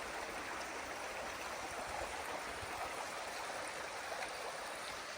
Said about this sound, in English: The sound of the creek is so nice.